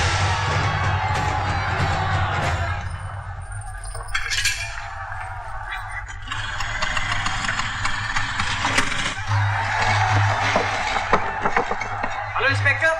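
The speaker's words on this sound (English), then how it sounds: "There's a huge crowd outside." A huge crowd gathered outside during a riot scene, a loud roar of many voices with shouts and cheers mixed with a rumbling engine, continuous throughout, with people talking over it.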